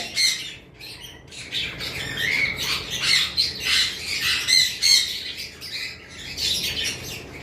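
A breeding pair of lutino cockatiels squawks close by in a steady run of harsh, overlapping calls with short pauses, loud throughout and with no voices.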